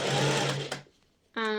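A sewing machine runs steadily while stitching across the bottom of a child's coat front piece, then stops for a moment before a short second burst of stitching starts up again.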